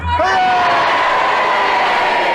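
A studio audience at the Just A Minute panel game cheers together: a loud burst of crowd shouts and whoops rising at once and holding steadily for a couple of seconds.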